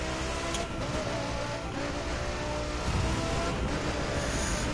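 Chevrolet Corvette C5R race car engine in The Crew 2 driving game, a steady loud roar held at high revs and shifting up through the gears at top speed, with no talk over it.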